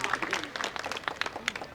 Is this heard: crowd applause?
yes